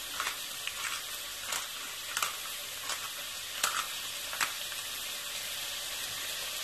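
Food sizzling steadily in hot coconut oil in a home kitchen, a constant faint crackling hiss broken by soft stirring clicks at irregular intervals.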